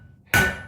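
A single sharp, ringing hammer blow lands on hot metal on an anvil during blacksmith tapering, loud and close, with the ring decaying quickly.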